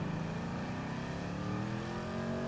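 A car driven in GTA 5 hums along with a steady engine drone that climbs slightly in pitch, close and continuous, with no talk over it.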